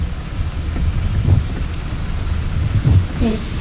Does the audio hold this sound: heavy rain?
yes